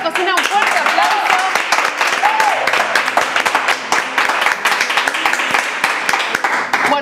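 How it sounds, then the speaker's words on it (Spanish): Studio audience applause for a paella cook celebrating 40 years of cooking, dense steady clapping through the whole stretch with voices talking and cheering over it. "vamos a darle toda la cocina un fuerte aplauso"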